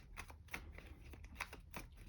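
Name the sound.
shuffling a deck of game cards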